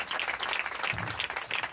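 Audience at a church meeting in a village clapping hard, a dense, continuous burst of applause filling the room without pause, no voices on top.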